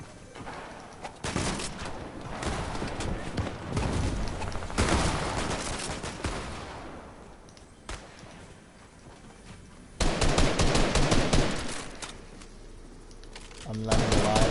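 Gunfire in the video game Fortnite comes in loud, dense bursts, separated by quieter gaps. Two people talk over the shooting.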